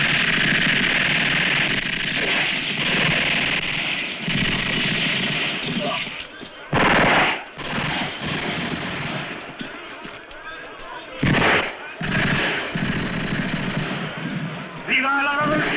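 A platoon in a Western firing squad lets off volleys of rifle fire, two sharp, loud bursts standing out over a noisy, busy background.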